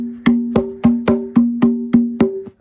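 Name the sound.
boogaroo hand drum struck with one hand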